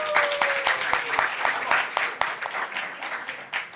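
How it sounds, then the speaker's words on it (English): An audience at a general assembly gives a round of applause, brisk clustered clapping that stays fairly even and loud, with a few distinct nearby claps standing out. "Another round of applause for them."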